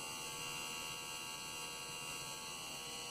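A Solary SD308 EVAP leak detector smoke machine pump runs with a steady, continuous electric hum and buzz, close and unchanging, with no talk.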